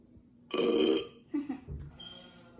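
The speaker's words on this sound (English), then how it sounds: "they complete the circuit and make you burp." A Pooh Bear toy wired to a Raspberry Pi lets out one long, loud, throaty burp, followed by a couple of shorter, quieter gurgling bursts.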